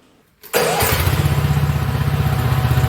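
A walk-behind power tiller (cultivator) engine starts abruptly after near silence, then runs loud and close with a steady, fast pulsing chug, alone with no talk.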